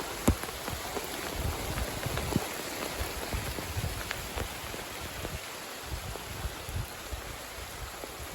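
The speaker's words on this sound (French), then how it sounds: "Une très forte pluie." Steady heavy rain pours down during a thunderstorm, a dense hiss with scattered drops pattering on surfaces, fairly distant and continuous throughout.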